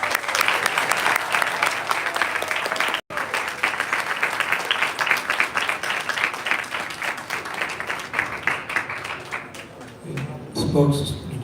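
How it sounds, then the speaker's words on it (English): A big round of applause from a crowd gathered at a Vyasa Puja celebration in Vrindavana, sustained dense clapping that carries on for several seconds, briefly cuts out, resumes and fades as a voice begins speaking near the end. "I think he deserves another big round of applause."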